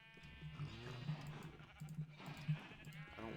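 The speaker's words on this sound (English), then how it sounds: "Look at all these colorful little baby sheep." Sheep bleat repeatedly in the Harvest Block farming video game, several short wavering cries close together over a soft background.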